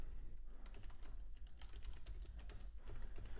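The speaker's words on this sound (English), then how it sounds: "If you do hear typing, that's me making alerts in my private community that I offer." Fast, light clicking of keys on a computer keyboard, close and quiet, with an irregular rhythm of bursts and short pauses.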